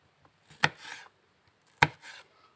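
A knife chops through onions and tomatoes on a board during outdoor cooking, two crisp, close chopping strokes about a second apart, each with a short scraping tail, in otherwise quiet surroundings.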